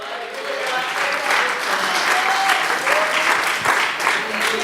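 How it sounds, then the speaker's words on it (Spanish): Church congregation applauding loudly in worship, a broad sustained clapping wash that holds steady throughout, with faint voices and music tones beneath. "puede dar un aplauso fuerte, fuerte, fuerte al Señor."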